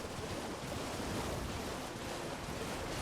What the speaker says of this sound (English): there's a waterfall on your left side